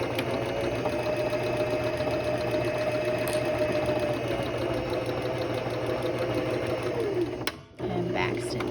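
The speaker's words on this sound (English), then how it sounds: "I'm going to go forward, back stitch a bit, and then go all the way down with 1 more 1/4 inch seam." A sewing machine runs a steady quarter-inch seam on a heating pad panel, a continuous close whirring drone with a brief back stitch, stopping abruptly near the end.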